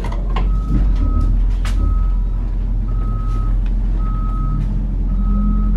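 A 40-foot bus backing up gives off a steady series of regular electronic reversing beeps, five or six evenly spaced tones over a loud, constant low engine rumble.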